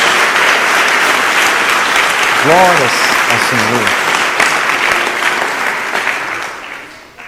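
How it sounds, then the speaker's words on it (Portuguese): A church congregation applauds in a sustained, dense wash of clapping that fades toward the end, with a voice calling out praise partway through. "Dá uma salva de palmas a Jesus."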